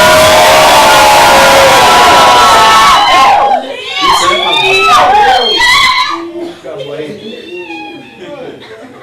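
A church congregation shouts together in a loud, dense wash of raised voices that swells for several seconds, then breaks into scattered calls and cries that grow quieter toward the end.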